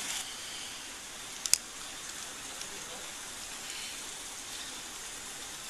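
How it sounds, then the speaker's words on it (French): Steady rain patters outdoors as a soft, continuous hiss at moderate distance, with a couple of sharp clicks near the start and no clear voices on top. "C'est la pluie qui vous gêne"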